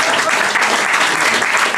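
Steady, dense applause from a comedy club audience fills the room at a constant level, broad and continuous without breaks, with no speech over it.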